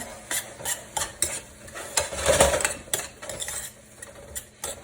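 Spinach pie filling with dill stirred in a hot pan, a steady sizzle of frying under repeated scraping and clinking strokes of a utensil against the pan, close and moderately loud, with no voices.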